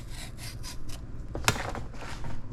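A knife slices down through a ripe plantain peel, making a series of soft, scraping cuts up close with one sharper snick near the middle and no talk.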